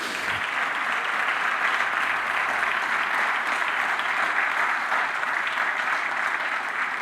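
A church congregation applauds together in one sustained, dense wave of clapping that stays steady and loud throughout.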